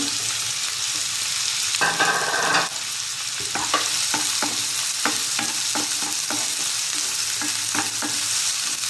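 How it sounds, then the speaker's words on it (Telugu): Onions and curry leaves fry in a pan for a cauliflower fry, giving a constant loud sizzle broken by a brief burst of louder crackle and a series of regular spoon scrapes and taps against the pan. "ఇప్పుడు కాస్త ఉల్లిపాయలు కరివేపాకు వేస్తాను."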